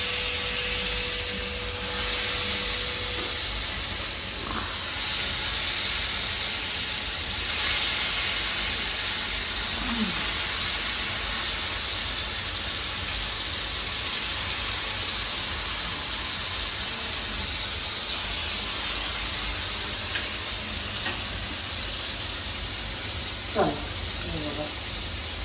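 Fish sizzles as it fries in a pan, a steady close hiss that continues throughout with occasional faint clinks.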